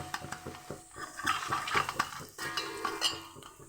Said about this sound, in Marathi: आपण चांगलं परतून घेऊया 2 ते 3 मिनटं